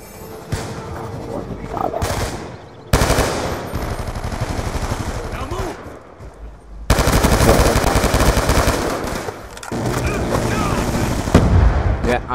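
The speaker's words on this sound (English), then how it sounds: "I was not aware that death machines could just shoot anywhere they want" Death Machine gunfire in a Call of Duty Team Deathmatch match on Raid rattles in long, loud, dense sustained bursts broken by short pauses, with players talking over the shooting.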